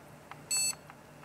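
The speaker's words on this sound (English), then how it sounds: "We got a beep, which may or may not be a good thing." A single short electronic beep from a desktop PC during installation of a Corsair H105 liquid cooler, sharp and high-pitched over a quiet hum of running fans, with a few faint clicks around it.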